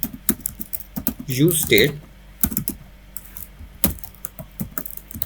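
Code is typed on a computer keyboard in quick, close clicks with short bursts and pauses, while a person speaks briefly over part of it.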